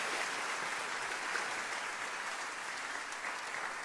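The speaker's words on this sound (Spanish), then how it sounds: "Dale otro fuerte aplauso al Señor." A church congregation applauds together in a steady, dense wash of clapping that holds at an even level from start to finish, with no voices standing out.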